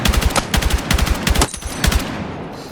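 M277 rifle firing in bursts in Battlefield 6, loud rapid cracks in several short strings of about four to six rounds each, close and punchy with no talk.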